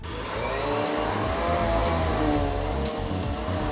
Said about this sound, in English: One of the most important places to vacuum is under the bed. And with the Maytag vacuum, it lays flat, so it makes that easy.